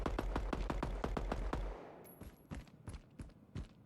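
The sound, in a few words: gunfire in DeaDrop video game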